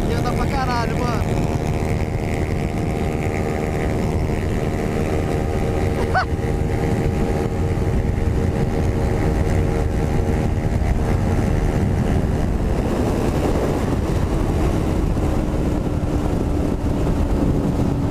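Motorcycles racing, a Ninja 250R, CBR 250 and MT03 at top speed, heard as a steady loud engine drone with rising and falling revs and strong wind rush, with someone talking over it.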